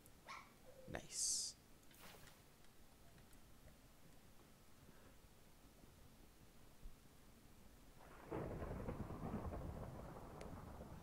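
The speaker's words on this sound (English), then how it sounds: "The lightning is really loud" Thunder from lightning in the Minecraft video game rumbles in as a long, building low roar near the end, after scattered faint game sounds and a sharp clack early on.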